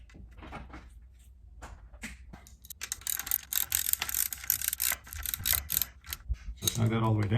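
A ratchet snugs down a seat bolt on a Honda driver seat, clicking in quick bursts of mechanical ratcheting at close range after a quieter start, ending in a louder rattle.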